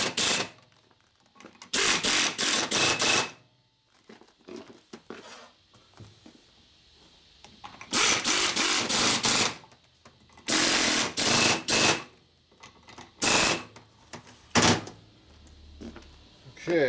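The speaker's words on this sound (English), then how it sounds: "now we'll go ahead and just tighten these nuts down" A socket wrench works nuts down on a Harley Sportster motor, with repeated loud bursts of rapid ratcheting clicks separated by quiet pauses, close up, with no talking.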